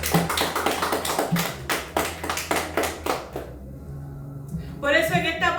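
A church congregation at a morning service claps in quick rhythmic bursts for several seconds, then fades into quiet before a voice begins speaking.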